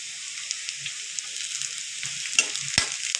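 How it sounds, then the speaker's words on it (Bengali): Onions and chopped garlic frying in a pan for a fish-head moong dal, a steady bright sizzle with a few soft clicks and scrapes of stirring. "পেঁয়াজগুলো অল্প ভাজা হয়ে গেছে, এবার দিয়ে দেবো রসুন কুচিগুলো।"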